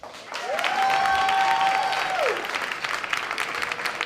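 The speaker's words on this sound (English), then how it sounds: "give you a hand clap, hand clap" Audience applause on a talk show swells into loud, dense clapping from many hands, with a sustained whistle-like tone over the first half, then continues as a steady patter.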